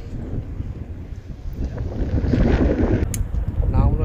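Strong wind buffets the microphone during a bike ride along a Singapore beach where people are fishing, a constant rumbling roar that swells and gusts throughout.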